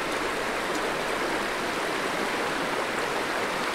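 A river stream flows steadily beside a camp north of the Arctic Circle, a constant close-up broadband wash of running water with no pauses and no voices.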